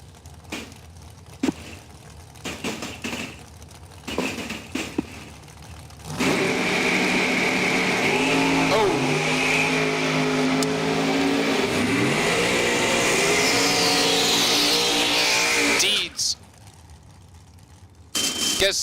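A race car driven by Riley Source at the Numidia Summer 150, a $10K Sunday race, its engine revving loud and steady with shifting pitch from about six to sixteen seconds, with quieter engine noise and clicks before and after.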